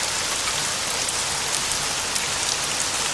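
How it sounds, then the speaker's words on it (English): Heavy rain pours down steadily, a dense, even hiss of drops on surfaces with no break or other sound over it. "Rain begins to pour down, and they go running for cover."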